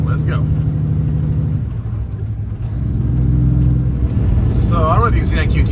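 A truck rolls along a busy highway outside Atlanta, its engine rumbling low and steady with a brief dip as it shifts, while a person talks over it near the end.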